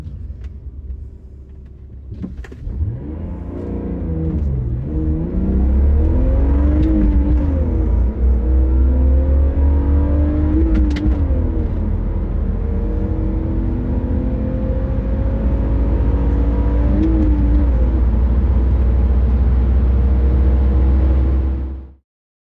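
A stock rear-wheel-drive BMW 3 Series accelerates hard on a timed run, its engine note climbing through several gears with brief dips at each shift, heard loud and steady from inside the car over a deep rumble before stopping abruptly.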